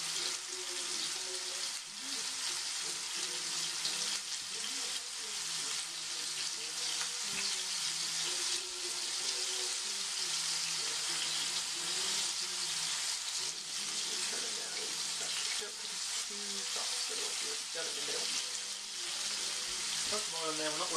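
Pork burgers frying in a pan, a steady close hiss and sizzle running throughout with faint scraping and occasional quiet movement.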